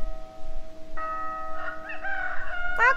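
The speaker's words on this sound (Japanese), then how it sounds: "コッケコー、コッケコー、 コッケコッコ ー" A rooster crows in the Professor Layton puzzle game, a bright, tonal cock-a-doodle-doo rising after a quiet opening, with a sustained bell-like chime underneath and a sharper call cutting in at the end.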